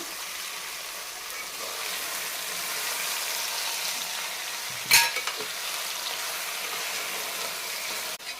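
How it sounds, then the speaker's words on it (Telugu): Mutton frying in a pan for a Telangana-style mutton fry, giving a steady, close hiss. A brief scrape and clank of stirring interrupts it midway, and a knock comes at the end. "5 నిమిషాలు కలిపి పెట్టుకున్నాం కదా ఈ మటన్ అనేది దీంట్లో వేసుకుందాం."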